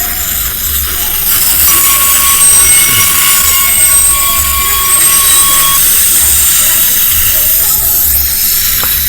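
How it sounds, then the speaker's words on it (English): A loud passenger train rolls nearby as its wheels squeal in a long, sustained high screech. The rumble and grinding build steadily as the train slows toward a stop. "And then the train stops in the corner."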